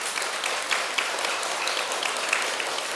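An audience at a Buddhist temple talk applauds, a steady run of many hands clapping together at moderate loudness, with a few sharper individual claps standing out and no talking over it.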